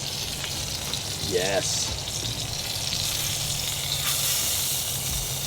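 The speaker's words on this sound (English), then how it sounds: "Let's flip open that grill lid and take a look at our filet." Filet mignon sizzles on a grill as a steady, close frying hiss throughout, while a person talks over it and briefly exclaims partway through.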